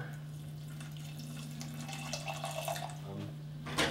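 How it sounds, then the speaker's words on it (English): About three-quarters of a cup of water is poured into a pot of black bean soup on medium heat. A soft, uneven splash and trickle runs for a few seconds over a steady low kitchen hum. "we're going to add about 3/4 of a cup of water"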